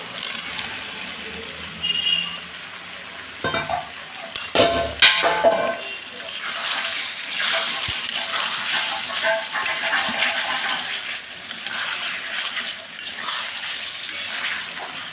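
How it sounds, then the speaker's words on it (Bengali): Fried potatoes tipped into spiced masala in a pan, a clattering burst as they go in, followed by a steady sizzle with occasional stirring scrapes. "এবার ভাজা আলুটাকে দিয়ে দেবো"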